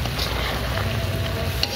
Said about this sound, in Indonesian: Kita aduk-aduk.